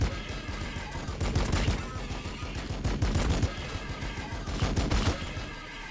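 Rapid gunfire from an attack in the strategy game Warhammer 40k BattleSector, dense overlapping bursts and shots rattling continuously at a loud, steady level throughout.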